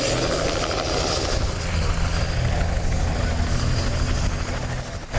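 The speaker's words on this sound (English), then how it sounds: "They also had helicopter rides." Helicopter flying overhead at an outdoor gun show, its engine and rotor giving a steady, loud, close drone that holds level the whole time, with no one speaking.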